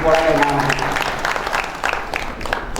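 An audience at a speaking event bursts into applause, a loud, dense wash of clapping, while a speaker's voice carries over the start before the clapping settles into a steady patter.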